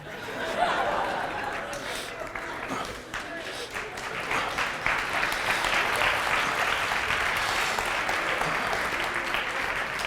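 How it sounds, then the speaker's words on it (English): An audience applauds after a cooking demonstration, a sustained wash of clapping that builds and holds, mixed with some chatter and light laughter in the room. "let's give them a round of applause"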